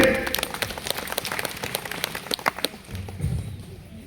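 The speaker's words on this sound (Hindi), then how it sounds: "बिल्कुल सही जवाब ताली देंगे" A group claps together at a Hindi Bible question-and-answer quiz, a burst of crisp, rapid claps that fades out after a few seconds while a voice talks underneath.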